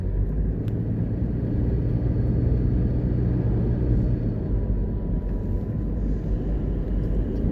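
A car drives through the Church Pen area of St Catherine, Jamaica, its steady low road rumble and engine drone running without a break and mixed with some wind noise.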